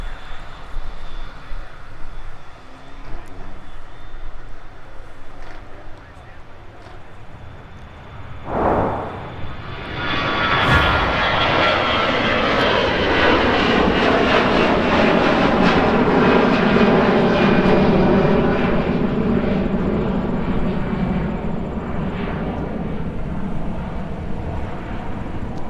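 A FedEx ATR turboprop taxis close by at an airport, its engine and propeller whine building from a moderate hum into a loud, sustained roar that holds steady without voices.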